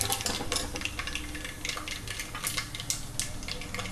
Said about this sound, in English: occasionally stir all of them.